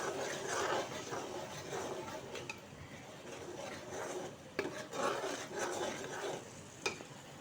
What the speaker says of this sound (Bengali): কিছুক্ষণ ভালো করে কষিয়ে নিতে হবে।